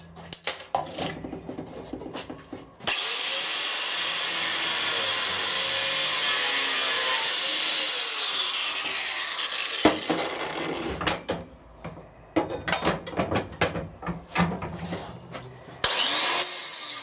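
Angle grinders fitted with guards run in a workshop, a loud sustained whine lasting several seconds, then shorter grinding and scraping bursts with pauses between them.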